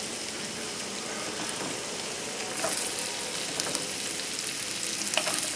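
Wasabi beef tips fry in a pan over a moderate flame, sending out a steady, dense sizzle with occasional pops and crackles, close and continuous throughout.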